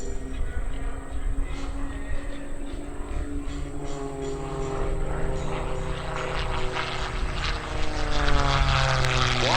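Two aerobatic propeller planes of an airshow team roar past close together during a switchblade hammerhead maneuver, a loud continuous engine drone with shifting, sweeping pitch that swells toward the end.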